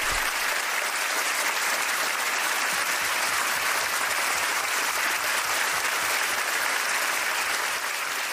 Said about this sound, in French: nous l'applaudissons très fort, avec tout notre amour